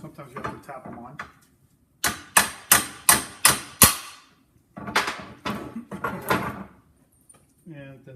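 A part being tapped onto a Land Cruiser transfer case during a rebuild, likely a shift arm or washer: five sharp, evenly spaced metallic knocks, then a looser cluster of taps, close and loud, with faint murmuring at the start and end.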